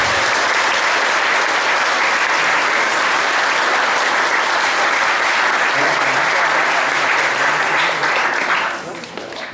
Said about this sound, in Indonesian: Terima kasih dan tepuk tangan buat Anda.